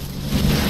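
Rain in the video game Death Stranding: a brief, loud, dense hiss of falling rain with a low rumble that swells slightly partway through.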